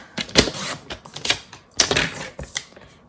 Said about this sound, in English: I'm going to take my paper trimmer and cut it at 4 inches